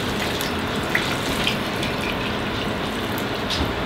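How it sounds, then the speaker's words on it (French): Water pours steadily into a pot holding about 2.5 kg of chicken carcasses for broth, a continuous close rushing splash with no breaks and no talk. "J'en mets un deuxième pour que le liquide"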